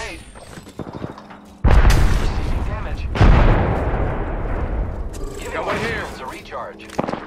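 A grenade blast in the Apex Legends battle royale, two loud booming explosions with long rumbling tails in the middle of combat noise. Voices speak around them.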